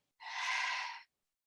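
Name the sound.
deep exhale through open mouth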